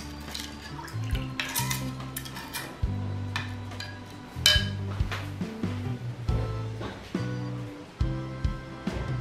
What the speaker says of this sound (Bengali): বোলের একদম নিচে যদি চামচ দিয়ে এভাবে নাড়া যায়